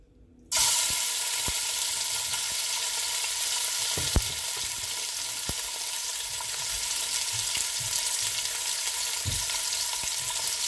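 Meat for a Caribbean three-meat dish of pork, beef and cow foot hits hot oil and erupts into a loud, steady sizzle that continues throughout, with occasional knocks of utensils against the pot.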